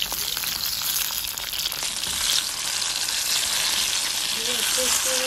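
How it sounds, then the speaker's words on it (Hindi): Brinjal pieces frying in hot oil, a steady dense sizzle that runs the whole time, close and fairly loud, with a few faint clinks near the end. "इनको फ्राई करेंगे और फिर निकाल लेंगे"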